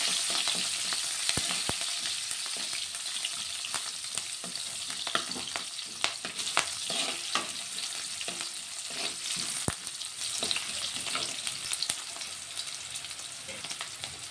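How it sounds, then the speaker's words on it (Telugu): Chopped onions and green chillies stir-frying in a pan for white fried rice: a steady, bright sizzle runs throughout, broken by irregular scraping and clicking strokes from the stirring spoon, with no voices. "అలాగే ఇప్పుడు కట్ చేసుకున్న ఉల్లిగడ్డలు, అలాగే పచ్చిమిర్చి, ఇవన్నీ వేసుకొని ఒకసారి కలిపేసుకుందాం"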